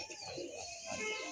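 Pigeons coo faintly in a loft, soft low murmuring calls blending with quiet background noise in a brief, distant passage without talk.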